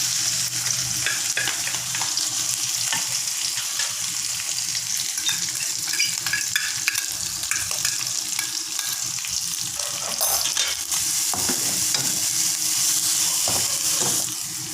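Long beans frying in hot oil in a wok, a steady dense sizzle with intermittent stirring scrapes and clatters throughout, close and fairly loud with no talking.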